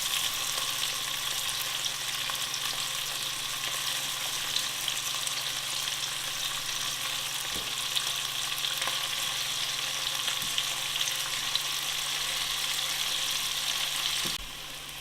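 Stuffed eggplants cook under a lid in a pan on low flame, giving a steady, even sizzle that runs unbroken for the whole stretch, with only a couple of faint ticks and no talk.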